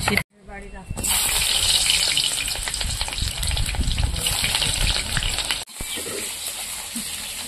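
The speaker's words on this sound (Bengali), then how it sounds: "তো এই কটা সবজি আমি তেলে আলাদা আলাদা করে ভেজে নেব।" Beans, eggplant, green banana and other vegetables frying in oil, each batch fried separately with salt. A loud, dense, continuous sizzle fills the clip, with two brief cuts near the start and after five seconds.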